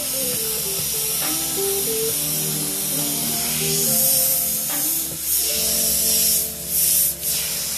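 Gravity feed airbrush spraying paint onto a hard surface, a steady loud airy hiss with brief surges, over a background hum and faint music.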